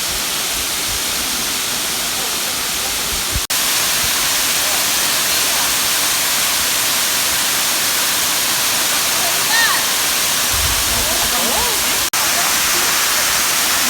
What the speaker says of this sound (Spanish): atrás mío pueden ver las 7 cascadas